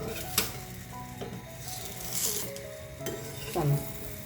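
Wheat flour holige frying on a hot pan, a soft continuous sizzle with a few scraping clicks and a light clatter as the flatbread is flipped.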